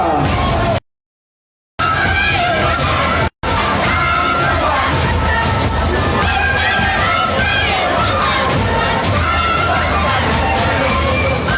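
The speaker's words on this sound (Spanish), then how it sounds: "Fuerte los aplausos, por favor." Crowd noise and cheering for a carnival comparsa dance troupe at a Vilquino carnival launch, a loud, dense roar of voices and clapping that runs almost continuously apart from a brief dropout near the start.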